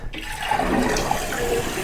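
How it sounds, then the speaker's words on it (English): Water gushes out of a toilet tank as the flapper plunger is lifted during a broken-handle repair, a loud close rushing flush that starts abruptly and keeps running steadily. "So you pull your plunger up and get your water out."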